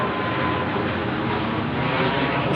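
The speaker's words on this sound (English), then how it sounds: "Smaller plane, but over my head at this late time of night" A small airplane passes overhead late at night, a steady broad engine drone that stays loud and constant with no voices.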